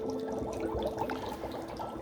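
Dry ice fog bubbling in laboratory beakers for a Halloween display, a steady close fizzing and gurgling of liquid without pause and with no one talking.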